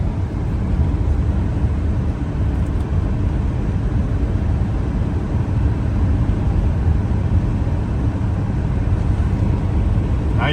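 Steady low road and engine rumble from a 1993 Chevrolet K1500 Z71 pickup cruising at about 60 on a South Dakota highway, heard from inside the cab as a constant drone with no talking.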